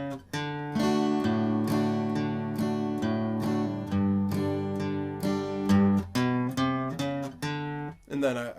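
Acoustic guitar playing the simple two-chord intro exercise to a song, steady strummed and picked chords in a bouncy rhythm, close and clear with no talking.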